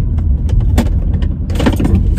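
A car rattles and thumps over a rough railroad crossing, with a burst of clattering jolts partway through as it crosses the tracks; loud and close, no talk.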